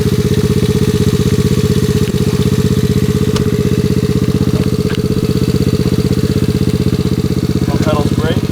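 A lowered mini truck's engine runs at a steady, loud idle on its first ride, a close, continuous throbbing rumble that holds unchanged throughout, with a brief voice near the end.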